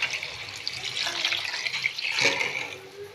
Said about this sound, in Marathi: आता याच्यात पाणी घालून घेते।